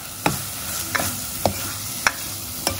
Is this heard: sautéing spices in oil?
yes